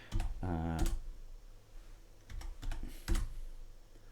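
A few short bursts of keystrokes tap on a computer keyboard, close and fairly quiet, separated by pauses, with a brief voiced tone near the start.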